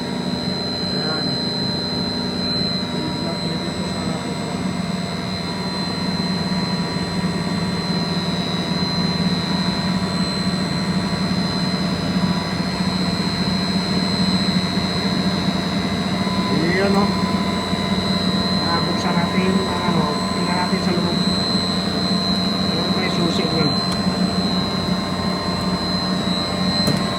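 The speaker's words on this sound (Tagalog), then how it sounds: "Nag-iingay ang ating makina." Refrigeration machinery for storage rooms drones continuously with a steady low hum and high-pitched whine, a constant mechanical roar filling the space.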